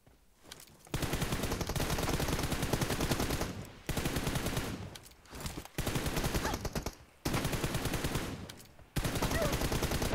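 PUBG Mobile gunfire in long automatic bursts, several sustained rattling volleys separated by brief pauses, loud and close, with no talk over them.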